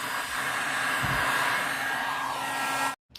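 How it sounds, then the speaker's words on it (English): A heat gun or hot-air blower runs steadily and close for nearly three seconds, warming TTR110 plastic radiator shrouds clamped onto an Apollo RFZ Z20 dirt bike, then cuts off abruptly. "I'm going to warm this up so it just relaxes around it and stays in that position"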